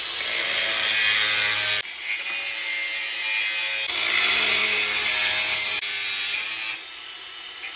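A 40 cm steel socket tube being sawn through by hand, with steady back-and-forth rasping strokes, loud and close, broken by brief pauses between bursts of cutting.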